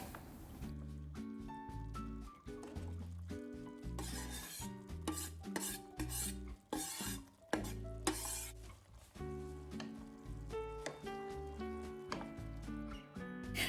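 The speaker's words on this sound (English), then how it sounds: "You can also keep cooking them just for a little bit in the sauce, but I like to throw them right in." Turkey veggie meatballs are stirred in hot sauce in a pan, with repeated scraping, rubbing strokes and a light sizzle forming an uneven rhythm of bursts.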